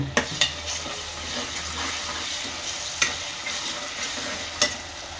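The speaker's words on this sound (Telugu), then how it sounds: "అల్లం కొంచెం ఉప్పు వేసుకొని వేయించుకున్నా ఉల్లిగడ్డలు" Onions fry in a pan with ginger, garlic and salt for a spicy mutton curry, giving a continuous close sizzle with scraping stirs and a few sharp clinks of a utensil against the pan.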